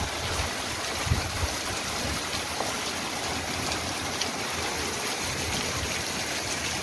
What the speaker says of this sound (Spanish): Vean así como se ven estos chorros ahí juntos.